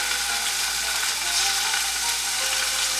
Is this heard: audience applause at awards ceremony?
no